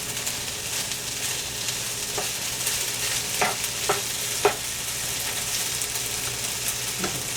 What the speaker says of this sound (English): I'm going to let the okra brown